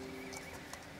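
Horses neigh faintly in the distance on a Danube riverbank while they are readied to cross, with steady outdoor background noise and no talk.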